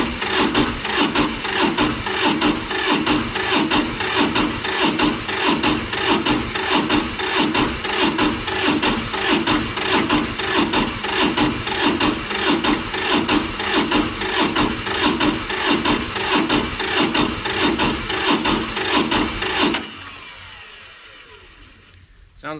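Diesel engine of a Sears loader cranking over on a weak battery, a steady rapid chugging of the starter for about twenty seconds before it cuts off, leaving faint background noise.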